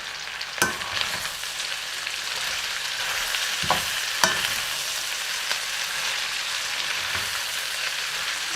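Kale sizzles and crackles as it is stir-fried with a splash of soy sauce, with a steady close frying hiss broken by a few sharp spatula scrapes and clinks, no talking.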